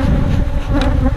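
Honey bees in an outdoor bee yard, a steady dense buzz of many insects that stays loud and close throughout as the last hive is opened.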